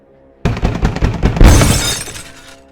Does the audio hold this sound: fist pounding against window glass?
yes